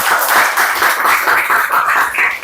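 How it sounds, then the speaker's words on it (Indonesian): A small group of people claps together in a room, brisk, close and loud, with a steady fast rhythm of overlapping hand claps throughout. "Tepuk tangan dulu untuk kita semuanya."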